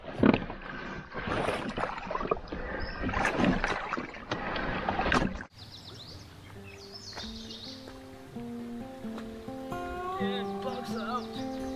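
Canoe paddling on the Whitemouth River: rhythmic strokes and water splashes loud and close for the first half, then quieter flowing water with birdsong and chirps in the background.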